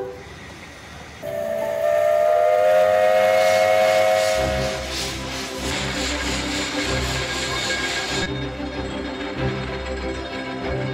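A cog railway train rumbles and clanks steadily, a long whistle sounds near the start, then heavy rhythmic mechanical grinding continues as it labours up a mountain.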